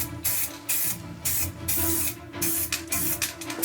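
Spray primer hisses from an aerosol can held upside down to coat the back of handmade armor bracers, in a series of loud short bursts separated by brief pauses.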